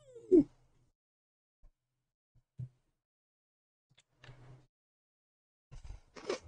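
A pet cat meows in a quiet room, with a few short, separate calls and soft noises in between that come in a slow, uneven rhythm.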